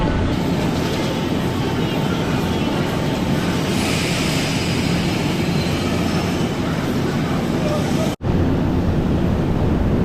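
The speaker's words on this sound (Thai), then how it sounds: "รถมาแล้วนะครับ เดี๋ยวเราเดินไปขึ้นรถกันครับ นี่ครับ ก็จะเป็นรถไฟ" An airport express train in Osaka rumbles steadily into a station platform, a broad continuous roar with a brief dropout near the end, voices faintly underneath.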